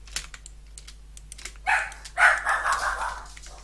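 A Minecraft dog (wolf) barks a few times in the game, preceded by light keyboard clicking from the player, with the barks close and moderately loud.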